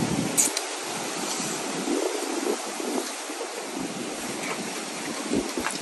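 Steady wind rushing and buffeting a nearby microphone, a continuous broadband roar with occasional gusts and no speech.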